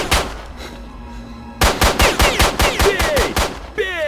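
Pistol shots in the game STALKER Shadow of Chernobyl, a quick run of about a dozen loud, sharp cracks fired in a steady rapid rhythm, alone without talk.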